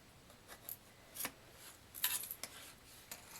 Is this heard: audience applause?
no